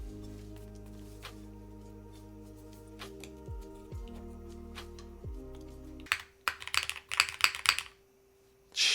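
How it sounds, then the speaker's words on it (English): Typing on a Cinque 55 mechanical keyboard fitted with bottom foam; a sustained tonal hum dominates the first six seconds, then a quick burst of close, crisp keystrokes clatters before trailing off. "Now I want to try this with a bit of that bottom foam."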